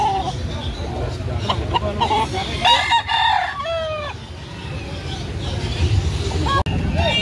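Chickens and a rooster cluck and crow at close range among other fowl, with several distinct calls over a busy background of voices talking.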